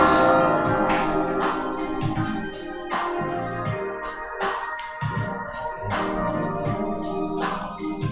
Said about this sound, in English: Oh, that's the bell.